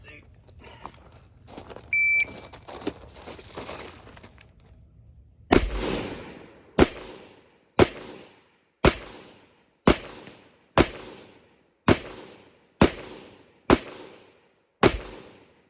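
Ten evenly spaced rifle shots from a KAC MRE carbine fired during a hat qualification string at a range, each a sharp, loud crack with a short decay, preceded by someone talking and a beep.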